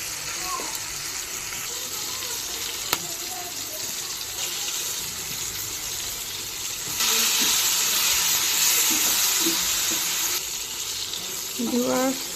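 Pointed gourd (potol) slices fry in hot oil with a steady sizzling hiss that swells louder about midway, brief clinks of a utensil near the end.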